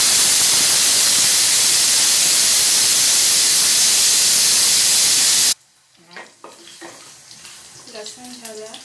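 Garlic with cumin and mustard seeds hitting hot oil on a low gas flame, a loud steady hiss and sizzle for several seconds before cutting off, followed by quieter clatter and speech.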